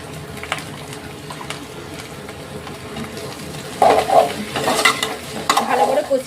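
Okra sautéing in a pan with chili powder and turmeric: a soft background sizzle, then louder bursts of stirring and scraping with frying hiss in the second half, close and with no talking.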